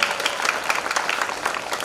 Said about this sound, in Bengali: সবার জন্য জোরদার একটা করতালি